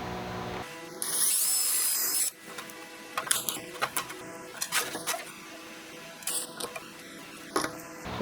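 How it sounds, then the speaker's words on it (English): A drill bores a 5/16-inch hole through metal for camper stair repairs, a steady high whine for about a second and a half followed by scattered clicks, clanks and handling knocks, with no talk. "So I'm going to drill a hole 5/16 right here where we marked it"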